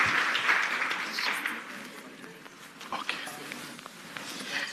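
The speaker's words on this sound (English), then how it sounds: "If you could just give them another round of applause." Round of applause from a conference audience at a competition law and economics event, steady clapping that swells at the start and slowly thins toward the end, with some talk mixed in.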